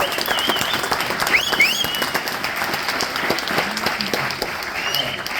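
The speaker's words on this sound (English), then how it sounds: "So let's give a big round of applause for our guest." Studio audience applauding a guest at a talk event, a sustained, loud wash of clapping from a sizable crowd with a few whoops and whistles, continuous throughout without speech.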